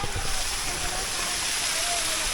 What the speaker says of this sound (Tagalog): Are you ready for the waterfalls?